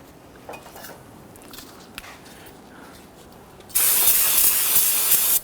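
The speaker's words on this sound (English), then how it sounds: "I'm going to grab some spray solvent." After a few seconds of quiet background, an aerosol brake-cleaning solvent spray hisses loudly and steadily in one continuous burst up close, sprayed into the back of a brake caliper on a Nissan Frontier.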